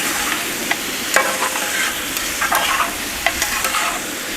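Chicken stirred and fried on a hot tawa, a bright continuous sizzle with scattered scraping clicks from the spatula, close and fairly loud, with no speech.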